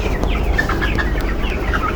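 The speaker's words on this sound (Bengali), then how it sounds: "তো আমার মুরগির এটা সকালের দৃশ্য" Chickens clucking in a poultry house in the morning, a close, busy overlapping chorus of short clucks and calls over a steady low background hum, with no talking.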